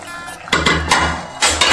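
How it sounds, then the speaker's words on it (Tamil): A pressure cooker lid being opened after steaming tomato rice: a few sharp, close metallic clanks and clatters of the lid against the pot, in quick bursts separated by brief pauses. "இப்போ குக்கரை ஓப்பன் பண்ணிக்கலாம்"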